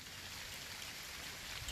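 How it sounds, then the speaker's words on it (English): Steady rain falls in a dense, even hiss that fills the whole moment, faint and distant with no voices over it, on a rooftop during a solar panel mount installation. "See, the rain is coming."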